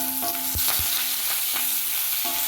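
Dried red chillies roasting and being stirred in oil over a low flame, a steady soft sizzle broken by repeated scraping taps of the spoon against the pan.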